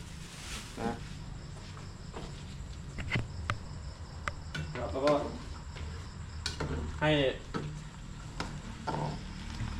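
A spoon stirs a pot of soup as tamarind paste dissolves into the liquid, making scraping and clinking sounds with a soft bubbling, sizzle-like texture underneath, close and continuous, with a few brief tapping knocks.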